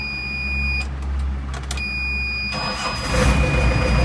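A 2008 Thaco dump truck's diesel engine cranks and fires up close by, a low rumbling idle building louder toward the end, over a steady background hum with no talking.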